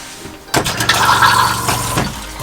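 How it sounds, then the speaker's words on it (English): A small toilet in the bathroom of a Sprinter camper van flushes with a sudden loud rush of water that surges steadily for about a second and a half, then drops off sharply. "We have our lovely little toilet here, which does flush."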